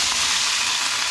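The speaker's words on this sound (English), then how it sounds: "when you toss them into the pan with the hot oil" Boiled diced red potatoes hitting hot olive oil in a frying pan, giving a loud, bright, continuous sizzle that cuts off abruptly at the end.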